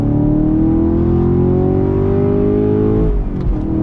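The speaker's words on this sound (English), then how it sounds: "let's go ahead and do a little acceleration test. Second gear on throttle." A 2020 Chevrolet Camaro SS V8 accelerating hard in second gear on throttle: a loud, close engine note climbing steadily in pitch for about three seconds, then easing off as the revs drop, with no talking.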